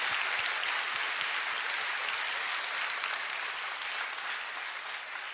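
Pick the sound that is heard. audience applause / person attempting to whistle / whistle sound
audience applause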